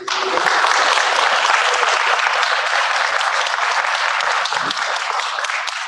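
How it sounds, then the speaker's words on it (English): Sustained, loud audience applause for the speakers at a middle school speech contest, a dense wash of many hands clapping steadily throughout with no pauses or talk. "give one more big round of applause to all of our speakers"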